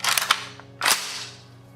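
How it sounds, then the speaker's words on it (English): An AK-74 hunting rifle's bolt is pulled back and released with the trigger held, giving two sharp, loud metallic clacks close up, the second followed by a brief ringing decay. "I'm going to pull the bolt back with my finger still on the trigger."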